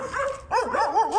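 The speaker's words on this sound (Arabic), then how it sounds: "نو يا ليلي نو، مالهاش دعوه، دي كلاب الشارع." Street dogs bark and yip in short, close, repeated bursts, several quick calls with whining, rising tones and no talk over them.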